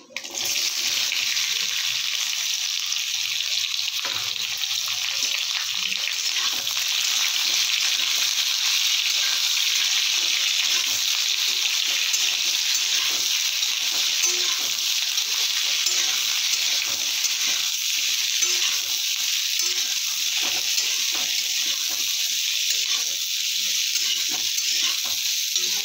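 Amla being fried in a pan for a sweet pickle, a continuous even sizzle that stays close and steady throughout, with no talking.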